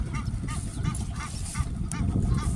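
Repeated honking, quacking calls of mallard ducks, ibis, blue heron and African open-bill birds ring out over a rumbling background, several birds calling in quick, uneven succession.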